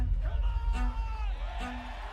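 Crowd cheering and whooping in the stands at a professional ultimate frisbee game between DC Breeze and Salt Lake Shred, a steady roar with rising whoops and yells, partly under a commentator's voice.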